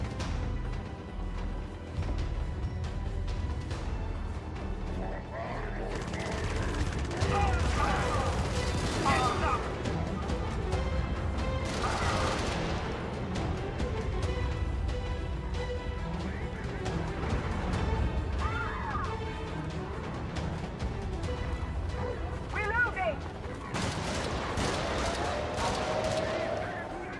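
Artillery barrage in the game Helldivers 2: a long run of booming impacts, crashes and rattling gunfire, loud and continuous, with bursts of blasts building at intervals.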